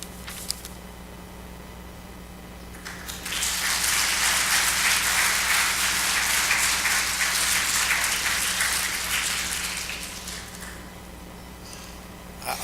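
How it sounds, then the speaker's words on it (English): Audience applause at a public hearing, a dense burst of clapping that swells in, holds for several seconds and then fades over a low room hum. "I know it's hard to restrain your clapping"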